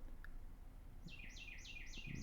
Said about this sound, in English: that bird is annoying and loud as hell